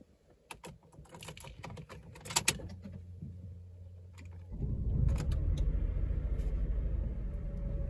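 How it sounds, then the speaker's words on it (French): A Honda Insight hybrid with a small three-cylinder engine is spun up to 1000 rpm by its battery: faint clicks and key-like rattles come first, then a smooth low hum swells in and holds. "c'est pas le moteur essence qui démarre de lui-même, mais c'est la batterie qui va le lancer directement à 1000 tours minute"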